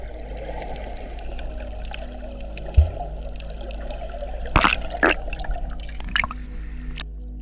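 Sea water washes against rock along the Algarve coast between Praia das Furnas and Zavial, a steady close wash with bubbling and a few sharp splashes near the end.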